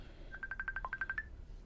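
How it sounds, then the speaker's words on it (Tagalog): A cellphone rings faintly with a quick run of about ten short electronic beeps in a simple tone pattern, followed by quiet. "Uy, may bagting nino na kong cellphone."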